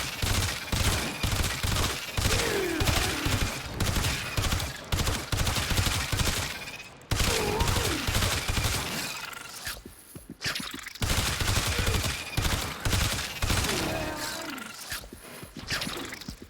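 Hema rifle fired in the video game Warframe against heavy corrupted gunners: rapid sustained bursts of gunfire in long strings, broken by short pauses, loud and dense throughout.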